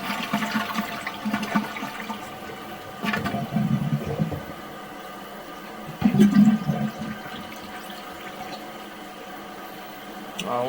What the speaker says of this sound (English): We're going to try and flush the toilet a few times.